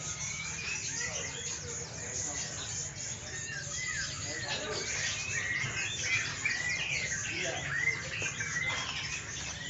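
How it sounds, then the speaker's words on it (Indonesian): Songbirds chirp and tweet continuously inside a large bird-keeping building, a dense, steady chorus of overlapping calls, with a voice talking underneath. "Burung gacor-gacor."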